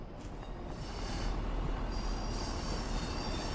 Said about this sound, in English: Oh, I hear a train going.